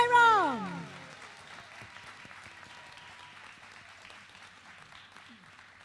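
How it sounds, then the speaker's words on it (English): Audience applause at a UK charitable trust gathering after dinner, a soft spread of clapping that stays low and steady after a brief louder sung or spoken phrase at the start. "Big round of applause for"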